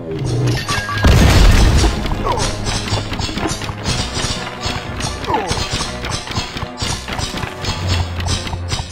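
A bomb blows up in the video game Heroes of Loot 2, one loud deep boom early on, followed by busy game effects with scattered taps and thuds.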